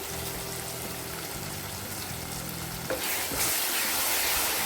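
Onion, tomato and ginger garlic paste sautéing in a pan for a country crab gravy, a steady sizzle and stirring scrape that grows louder and brighter toward the end, with no talk.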